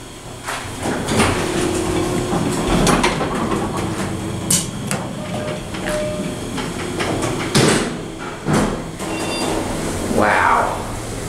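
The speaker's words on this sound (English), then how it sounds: "Oh, there's a train. It's a new one." A BART train moves through Concord station with a mid-distance rumble and clatter of rail transport, including sharp metallic clanks and a brief hiss, under occasional faint voices.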